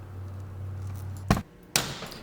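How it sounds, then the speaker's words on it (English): During timing belt work on a Mk4 car, a tensioner tool breaks and its pin shears off: a sharp metallic crack, then a second bright clink a moment later, close and loud, after a low steady hum. "that was the sound of my tensioner tool breaking"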